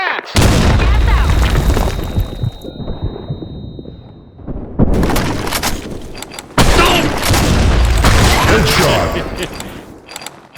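Gas grenade thrown in the Blackshot shooter on the Sandstorm map, loud booming bursts and mechanical clatter amid gunfire, with a brief lull between blasts and voices calling out over the action.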